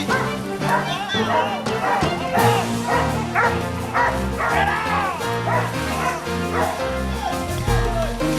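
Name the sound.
pack of dogs barking while flushing out a bull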